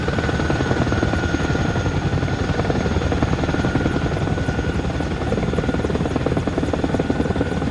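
A helicopter lifting off in a flight simulation game, a steady loud rotor thump with a droning engine whine running unbroken throughout.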